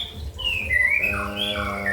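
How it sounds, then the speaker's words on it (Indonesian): A white-rumped shama songbird sings clear, bright whistled phrases, sliding notes followed by a rich rippling trill, close and loud with nothing else over it. "burung kicau mania, burung kicau yang namanya murai batu"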